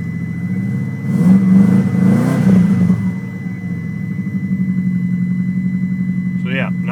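Subaru WRX (1993 GC8) with a 3-inch downpipe, 3-inch exhaust, resonator and Megan Racing muffler, idling with a steady low throaty rumble, a brief rise in revs near the start, then settling back to an even idle.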